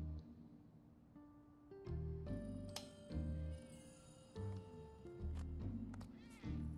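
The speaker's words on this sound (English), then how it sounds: "So many cute kitties in this game." Several cats meow in the Final Fantasy VII Remake video game, with repeated close, clear mews arriving in bursts over a soft game background.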